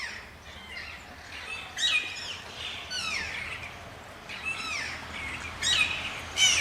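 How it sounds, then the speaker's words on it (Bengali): Parakeets call and squawk all around an outdoor breakfast spot in the Purulia countryside, a scattered chorus of shrill chirps and screeches at moderate distance with no talk. "এই চতুর্দিকে টিয়া পাখি রয়েছে,"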